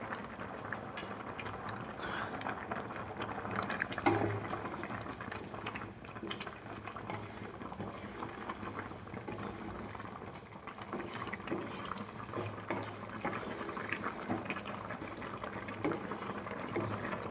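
Semai with milk simmers in a pot, a steady bubbling patter with faint mechanical rattling running throughout at low, even volume, no talking.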